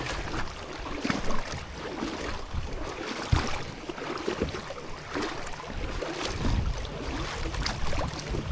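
A NuCanoe Unlimited kayak moves up a shallow river, with continuous soft water rushing and splashing around the hull and occasional bumps and knocks. The sound is fairly quiet and steady, with no talking.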